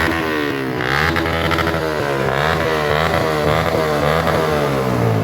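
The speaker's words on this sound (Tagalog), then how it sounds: "Tinanggal nga dito na kagawad ang kanyang silencer para marinig namin ang tunay na lakas ng MT-15." Yamaha MT-15 motorcycle with its silencer removed revs hard at close range at a petrol station, its loud, raspy exhaust rising and falling in repeated throttle blips without a break.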